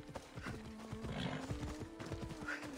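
A horse in the Assassin's Creed Odyssey video game, quiet rhythmic clip-clop hoofbeats at a steady trot with a brief whinny, low and under a soft game ambience.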